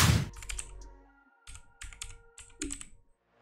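Typing on a computer keyboard: a few quick clusters of crisp key clicks with short pauses between them, close and quiet, no talking.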